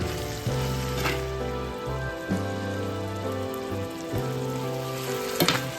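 Marinated plantain with dried red chilies and asafoetida fries on low heat, giving a continuous close crackle and sizzle over steady background music.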